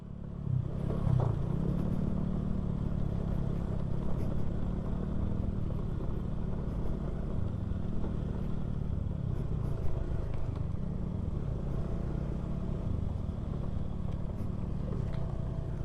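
A motorcycle rides a rough dirt road toward the Pililla wind farm, its engine a steady droning rumble mixed with clattering over bumps, continuous and fairly loud.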